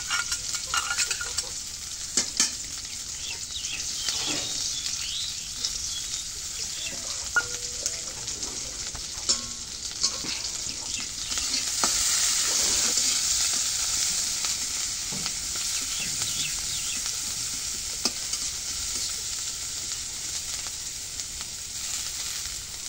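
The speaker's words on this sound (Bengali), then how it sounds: "এই যে তেল দিলাম, এই যে পেঁয়াজ মরিচ দিলাম," Onions and chilies fry in oil in a pan, giving a steady, close hiss of sizzling with occasional clicks of stirring throughout.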